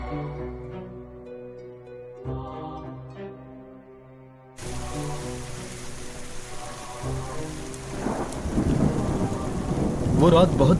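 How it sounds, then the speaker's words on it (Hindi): Heavy rain and rolling thunder fill a stormy night in a horror cartoon. Low musical tones play first, then the rain's hiss cuts in and the deep thunder rumbles swell louder toward the end. "वो रात बहुत बारिश हो रही थी।"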